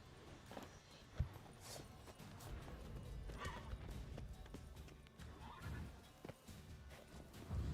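Roach the horse in The Witcher III gallops with quick clip-clop hoofbeats and lets out whinnies and snorts, close and fairly quiet, a sharp thump standing out early on.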